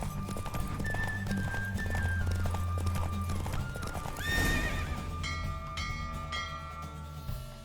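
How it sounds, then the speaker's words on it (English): A horse galloping in a race in The Witcher 3, quick rhythmic hoofbeats with a sharp, loud neigh rising midway, all under a bed of game music. "Don't spare the horse!"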